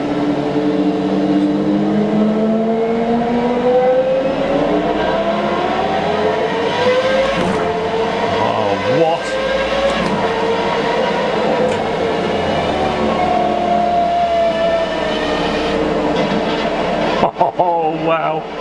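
A Formula 1 car engine in a motion racing simulator game at Alton Park screams through rising and falling harmonic sweeps as gears change, loud and continuous, with a voice talking over it and a brief burst near the end.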